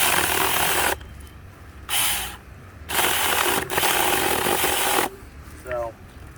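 A Bomves mini chainsaw with a 6-inch bar revs in short bursts, a loud buzzing whine that surges and cuts out several times, running rough and kicking, with a brief voice near the end.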